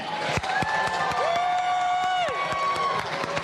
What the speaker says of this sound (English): A big, big round of applause for Josh Morgan.